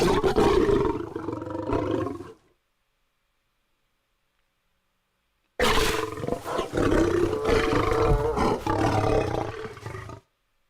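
Lion roaring sound effect: a loud, close, guttural roar, then about three seconds of silence, then a second longer rumbling roar.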